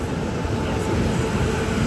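The Bengaluru–Danapur Sanghamitra Express sounds from inside a sleeper class coach, a continuous loud rumble of wheels and running noise with no gaps.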